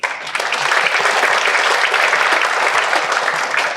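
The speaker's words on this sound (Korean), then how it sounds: "동의하시면 박수 한번 쳐주십시오" An audience at an energy technology conference breaks into steady, loud applause after the keynote speaker's prompt, a dense even wash of clapping lasting the whole stretch with no talking.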